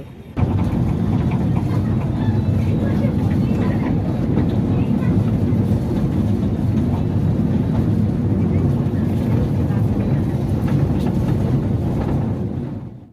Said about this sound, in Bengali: ট্রেন চলতে শুরু করেছে